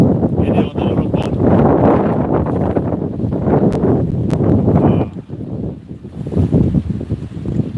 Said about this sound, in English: The wind's too loud.